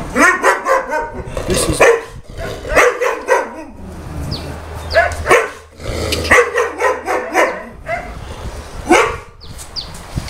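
Boerboel dog barking loudly and close, a series of deep, rapid barks in several bursts separated by short pauses.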